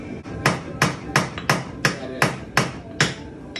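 A hammer, the tool for a Polaris snowmobile, strikes about eight times in a steady rhythm, each blow loud, close and sharp.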